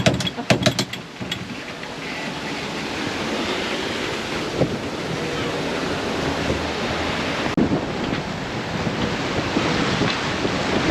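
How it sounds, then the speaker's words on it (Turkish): Strong wind and breaking waves at sea in the South Atlantic aboard a sailboat: continuous loud gusts buffeting the microphone over rushing surf, with a few sharp knocks at the start. "Ve bir anda böyle rüzgar değişti."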